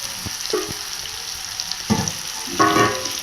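Raw plantain pieces frying in oil in a pan, with a constant close sizzle and a few louder scrapes of a stirring spoon.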